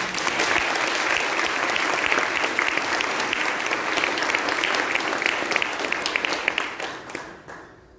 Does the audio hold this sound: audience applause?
yes